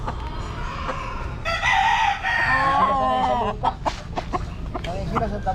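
A rooster crows loudly nearby, a long drawn-out call, followed by scattered clucks and calls from other chickens.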